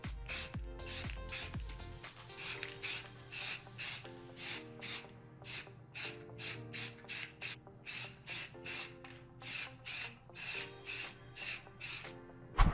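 Spray paint applied to a microphone boom arm: a long run of short, evenly spaced aerosol hisses in steady rhythm, close and fairly loud, over a faint continuous background hum.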